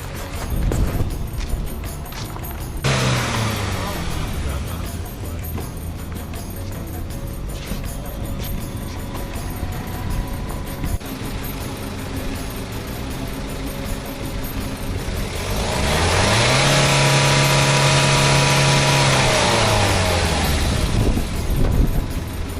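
A car engine idles steadily at close range, then climbs into a sustained rev that holds high for several seconds before dropping back toward idle, with no talking.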